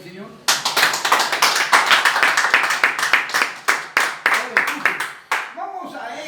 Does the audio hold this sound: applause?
yes